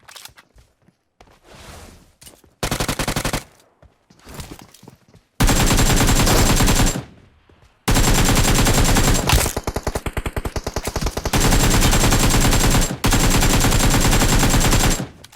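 Gunfire in PUBG Mobile, played on a tablet: loud bursts of automatic fire broken by short gaps, with single shots and a few quieter stretches between them.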